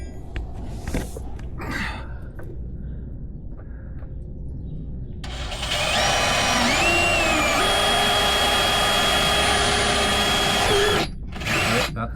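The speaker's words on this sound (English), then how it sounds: "Just drill a hole there now" A power drill bores a hole into a VW Crafter campervan being fitted with a fresh water tank, a loud steady whine lasting several seconds after quieter handling noises and a few knocks.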